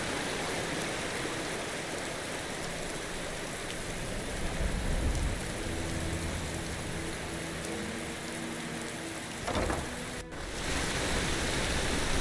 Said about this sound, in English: Not just nighttime, but raining as well.